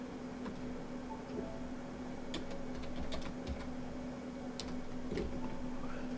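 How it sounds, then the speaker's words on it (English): Someone types on a computer keyboard in brief clusters of light clicking keystrokes with pauses between, close and fairly quiet over a steady electrical hum. "I don't know why I'm typing"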